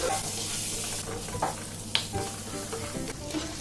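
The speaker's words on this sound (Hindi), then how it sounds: "अब इसमें ये परवल डाल दें और इसको अच्छी तरह से 1-2 मिनट तक लो फ्लेम पर भूनें" Pointed gourd (parwal) pieces sizzle steadily in oil and spices on a low flame, a continuous close frying hiss with occasional soft stirring scrapes and taps.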